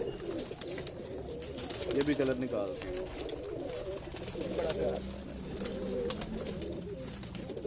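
Pet flying pigeons cooing in a home loft amid constant rustling and fluttering, soft, low murmured coos mixed with nearby talking voices.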